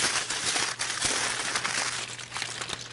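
Aluminum foil is crumpled into a ball, a soft continuous crinkling and crackling with small crunchy bursts, close and fairly quiet.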